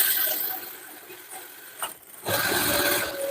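Sewing machine stitching a halter-neck blouse with a small, short stitch, heard as a steady mechanical whir that pauses briefly partway through before resuming, close and moderately loud with no talking.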